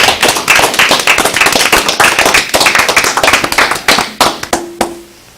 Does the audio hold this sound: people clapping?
yes